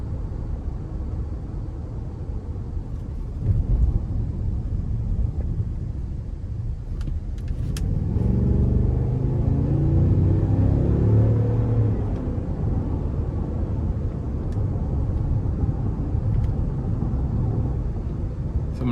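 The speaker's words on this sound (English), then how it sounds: "Now I have the vehicle in sport mode now, so we're gonna see how it gets up getting on the interstate here" A 2021 Cadillac Escalade ESV in sport mode accelerates up an interstate on-ramp, steady road and engine rumble swelling partway through as the SUV pulls harder, then settling back into a constant cabin drone.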